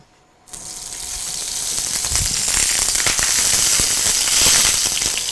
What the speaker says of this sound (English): the oil is spluttering